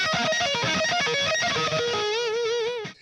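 Electric guitar legato lick, a fast run of smoothly connected notes ending on a sustained, vibrato-laden high note that cuts off sharply.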